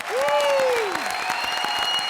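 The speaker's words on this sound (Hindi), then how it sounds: "यार जोरदार तालियां मार दो" Studio audience on the Comedy Circus show breaking into loud applause, dense clapping throughout a couple of seconds, with a brief gliding whistle-like tone rising and falling over it.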